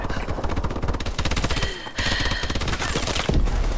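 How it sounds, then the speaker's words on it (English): Rapid automatic fire from a sentry gun in Call of Duty: Advanced Warfare, a loud, dense stream of shots that runs almost unbroken, with a brief dip near the middle before resuming, no voices over it. "sentry gun got me"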